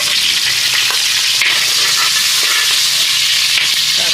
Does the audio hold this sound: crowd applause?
no